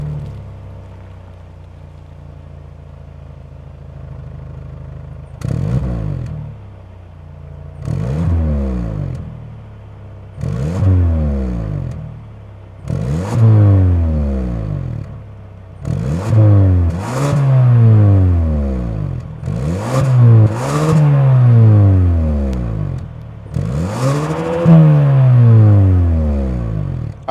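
The 2.5-liter turbo four-cylinder engine of a 2025 Kia K5 GT idles, then is revved repeatedly in a series of sharp bursts, each rising and falling, growing longer and louder toward the end.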